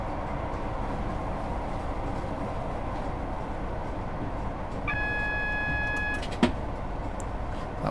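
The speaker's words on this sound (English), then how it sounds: "That was the AWS for this warning here" An AWS warning in a train cab in Train Sim World 3 on the Midland Main Line sounds as a steady electronic tone of about a second and a half over the constant rumble of the moving train, followed by a single sharp click.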